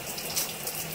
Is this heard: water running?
yes